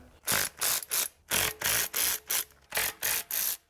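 A ratchet wrench works transmission pan bolts loose on a 2011-2016 Toyota Sienna, giving loud, close, rhythmic bursts of clicking, about ten even strokes with short pauses between, and no talking.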